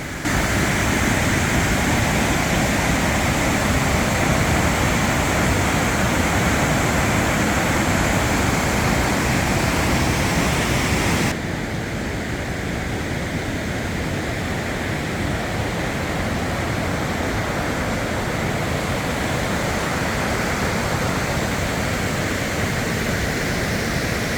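Steady broadband roar of a waterfall in the Canadian Rockies national parks, with a river below. The rushing wash holds loud and continuous, then drops a little in level partway through as if the vantage shifts, and no voices are heard.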